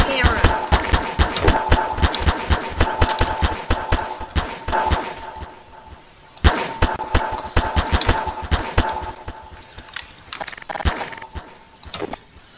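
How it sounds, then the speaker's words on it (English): Rapid bursts of automatic fire from an AAC Honey Badger submachine gun in Garry's Mod, loud, close and repeated in quick strings with short pauses, with a voice talking over parts of it. "AAC Honey Badger today. It's a submachine gun, as you can see."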